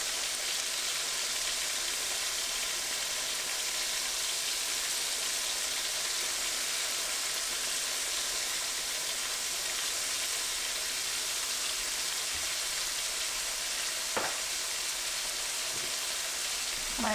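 Meat sears in a pan, a dense, even hiss that holds steady for a long stretch, with a couple of faint clicks near the end and no voices.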